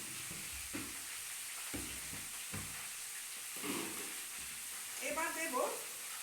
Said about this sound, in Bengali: আর এটার সাথে আমার দেখো আলু, ছিম, গাজর সুন্দর ভাজা হয়ে যাচ্ছে